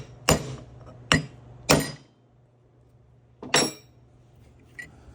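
A metal tool knocks a Hemi VVT cam lock block into place in five sharp taps. Three come close together, then one more after a pause, and a faint last tap ends it over a low steady hum.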